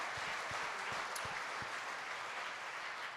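Steady audience applause at a radio town hall event, a dense wash of clapping at even loudness throughout with no voices over it.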